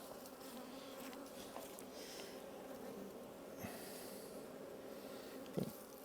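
Bees humming in an open beehive during a hive split, a steady soft buzzing drone close by with a few faint knocks.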